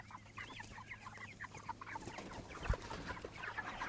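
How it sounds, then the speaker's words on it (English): Meat chickens clucking across a grass pasture, a dense, steady chorus of overlapping chirps and clucks from many birds close by, with one brief louder thump partway through. "Look out, chickens."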